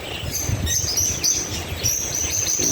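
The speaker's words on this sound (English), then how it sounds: "Here's a case full of birds." Small birds in an aviary case at a heritage park, including American collared doves and rosy-faced lovebirds, chirp and tweet in quick repeated high calls over a steady background hum, fairly close and lively throughout.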